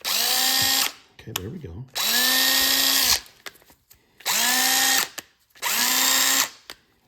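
A DeWalt impact driver, just repaired after water damage, whirs in four loud, close bursts of about a second each, separated by short pauses, clicks and a brief spoken remark.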